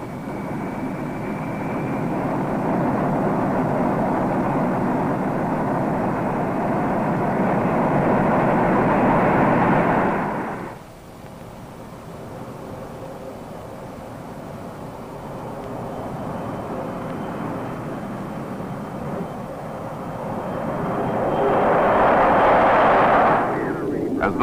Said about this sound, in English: As the bomber climbs out